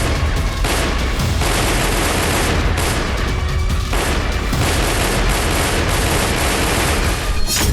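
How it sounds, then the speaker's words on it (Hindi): Heavy, indiscriminate gunfire at the Friendship Gate of the Chaman border crossing on the Pakistan–Afghanistan border in Balochistan, a dense, continuous, loud roar of shots and booms with no pauses throughout. "चमन बॉर्डर क्रॉसिंग के फ्रेंडशिप गेट पर अचानक अंधाधुंध फायरिंग शुरू हो गई"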